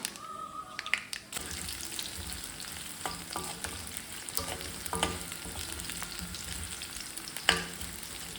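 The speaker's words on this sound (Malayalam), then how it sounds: "കടുക് മുഴുവൻ പൊട്ടട്ടെ എന്നിട്ടാണ്. ഇനി ഉള്ളി ഇടാം." Chopped small onions dropped into hot oil with spluttering mustard seeds for a traditional Palakkad dish, giving a quiet, continuous sizzle with scattered crackles and occasional stirring clinks, no voices.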